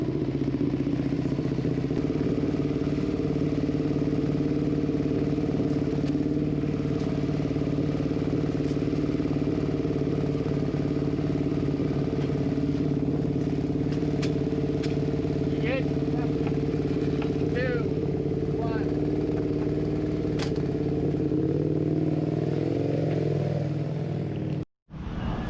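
Racing motorcycles for a Twins Cup qualifying session idle steadily in the pits at a professional race, a loud continuous engine drone with clattering mechanical tones, voices talking over it, ending in a sudden cutoff near the end.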